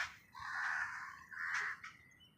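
Crows cawing nearby while being fed: two drawn-out harsh caws, then a shorter one, loud over a quiet background with no talk.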